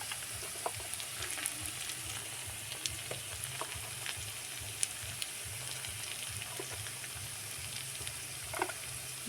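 Chilli and turmeric powder sizzle steadily in hot oil in a pan while being stirred for a Bengali tela kuchi khara, a continuous crackling fry with faint scrapes and no talking.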